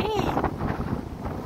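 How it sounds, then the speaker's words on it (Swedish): Strong wind buffeting the microphone outdoors, a rough, steady roar with gusts while people talk over it. "Hyss vad det blåser."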